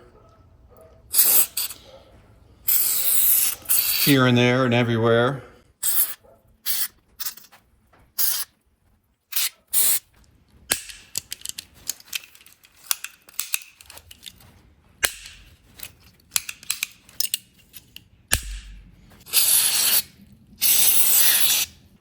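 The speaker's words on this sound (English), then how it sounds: "I'm going to shoot some grease down inside here" Short hissing bursts of aerosol grease sprayed into a 1952 Willys pickup door latch, some long and some quick, repeated over and over with clicks and brief talk in between.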